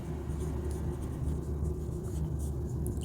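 Chalk or marker scratches across a board in short strokes, faint over a steady low rumble of background traffic noise.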